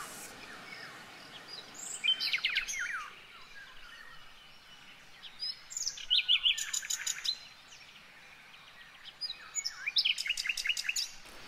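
A small blue bird calls beside a river in Bulgaria, near its nest, giving three bursts of bright, rapid chirps and trills at moderate distance over a quiet, soft background.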